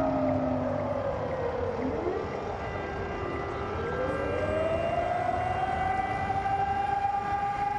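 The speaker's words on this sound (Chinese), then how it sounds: "那现在大家能听到的声音就是哈尔科夫的上空正在响起防空警报。" An air raid siren wails over central Kharkiv, its long rising and falling tone steady and loud across the whole stretch, with a low hum of the city beneath it and no talking.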